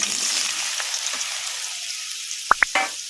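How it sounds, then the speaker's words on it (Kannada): Soaked soya chunks drop into hot oil in a kadai, giving a steady broadband sizzle of frying with a few sharp pops and spatters near the end, close and fairly loud, no talking. "ಈಗ ಎಣ್ಣೆ ಕೂಡ ಬಿಸಿಯಾಗಿದೆ. ಈಗ ಇದಕ್ಕೆ ನಾವು ನೆನೆಸಿಟ್ಕೊಂಡಿದ್ವಲ್ಲ ಸೋಯಾ ಚಂಕ್ಸ್, ಈಗ ಇವನ್ನ ಹಾಕ್ಕೊಂಬಿಡೋಣ"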